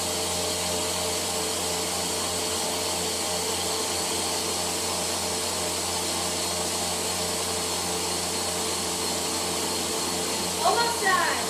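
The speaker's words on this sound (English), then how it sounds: "Already see it's starting to froth up as I blend it, but this does take about 30 to 60 seconds." A blender whirs steadily up close while frothing almond milk, a constant loud motor drone that runs without a break for the whole stretch.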